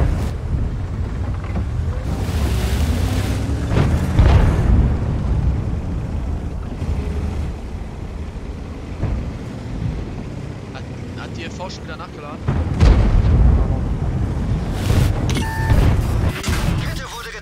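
Tank cannon shots and explosions in World of Tanks, heavy booming blasts that rise out of a rumbling engine and wind bed at a few points, mixed with player voices chatting throughout.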